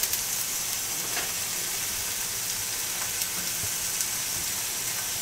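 Chopped bacon frying in a pan, a steady soft sizzle and hiss running throughout with a few faint crackles and pops, fairly quiet and heard alone.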